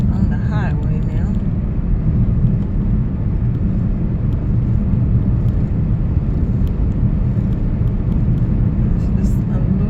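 A car drives along a highway, a loud, steady low rumble of engine and road noise filling the cabin, with a person talking over it.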